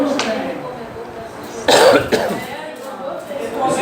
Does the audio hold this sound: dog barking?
no